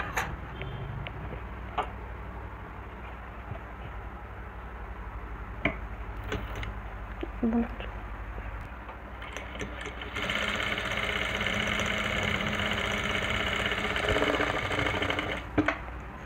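Sewing machine joining V-neck collar pieces for a kurti in a boutique, running steadily and close with a rapid mechanical ticking that grows louder and faster partway through, with occasional clicks.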